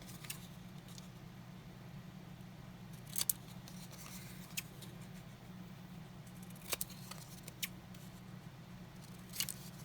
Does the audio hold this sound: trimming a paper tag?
yes